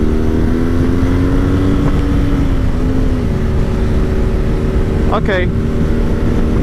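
A 2020 BMW R nineT Scrambler motorcycle rides off, its engine a steady close drone with shifting pitch under heavy wind rush, and a brief rising whine near the end; a voice speaks a single short word.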